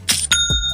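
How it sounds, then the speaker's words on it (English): A short Shopify sale notification chime plays, a bright two-note bell-like ding with a brief ringing tail, clear and close, with no voices over it. "That's the sound of another sale on Shopify."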